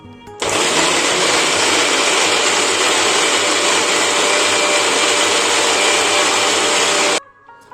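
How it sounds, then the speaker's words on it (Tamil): A mixer grinder blends paneer butter masala paste in a mixie jar, running as a loud, steady, close whir for about seven seconds before stopping abruptly. "இந்த மாதிரி மிக்சி ஜாரில் சேர்த்துட்டு நம்ம இதை மிக்சியில் அரைச்சி எடுத்துடலாம்"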